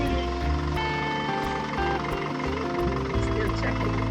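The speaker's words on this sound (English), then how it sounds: "Start the engine." A sailboat's engine idles after starting at a marina, a steady low rumble with a tonal hum running continuously and fairly loud throughout.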